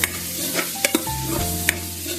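Chopped chillies and tomatoes being stirred in a pan on a slow gas flame, with a soft sizzle and a few sharp spoon scrapes and knocks against the metal, close and alone.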